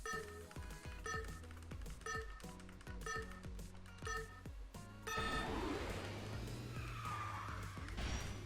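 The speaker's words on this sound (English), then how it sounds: "The first drift gives you the first booster and the second drift will give you the second booster." Karts drifting and skidding in the racing video game KartRider, with a repeated tonal game cue over engine hum, then a louder sustained tire-skid wash near the end, no voices.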